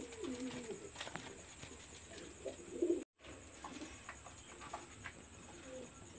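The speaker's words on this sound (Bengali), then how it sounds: "ওটা মায়া কবুতর" A Maya pigeon gives faint, soft coos at intervals against a quiet background hum.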